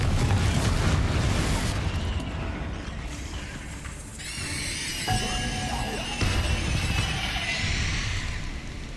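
A blasting-spell explosion cast in Hogwarts Legacy, a deep rumbling boom that swells and lingers with crackling, hissing debris layered over a busy battle din.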